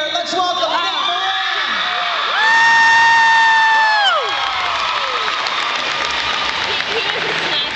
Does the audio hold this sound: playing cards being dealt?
no